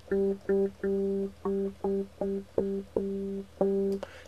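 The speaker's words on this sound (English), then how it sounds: "now you can actually hear the thumping of something contacting the fork" A modeled electric piano plays a run of short, evenly spaced struck notes, each starting with a soft thump of something hitting the tine fork before a brief tone that dies quickly.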